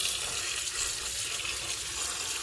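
Wild red vegetable shoots being rinsed under running water, with a steady close splashing stream that continues without a break and no talk.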